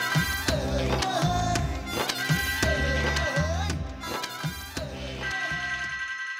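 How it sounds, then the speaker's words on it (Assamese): A telephone rings in a drama scene, a bright electronic ringtone repeating in quick melodic bursts, loud and close, with short gaps between rings. "ও বিজুলীৰ ফোন।"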